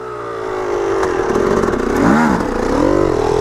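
A dirt bike engine on a mountain hillclimb revs loud and close, its pitch rising and falling through several surges over about three seconds, with some mechanical clatter under the roar.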